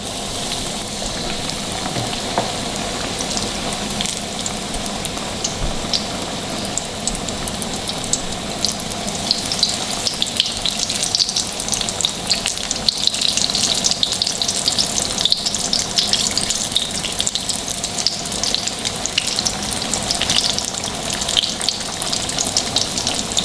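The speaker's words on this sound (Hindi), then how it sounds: "तो ऑयल के अंदर ये आलू को डालूंगी" Potatoes bubble and sizzle continuously in hot oil, a dense crackling hiss that grows somewhat louder midway and carries on without pause.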